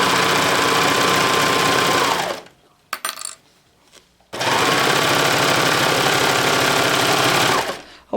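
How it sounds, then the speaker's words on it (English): A serger sewing machine stitches an infinity scarf in two loud, fast, steady runs of about two and three seconds each, separated by a pause with small clicks and handling noises. "I'm going to sew all the way to the other end."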